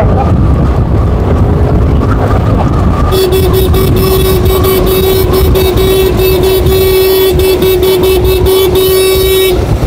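A truck rumbles along a road beside a breakaway group of cyclists. Steady loud traffic noise fills the scene, and partway through a sustained horn blast begins and holds, with rapid clicking ticks running under it.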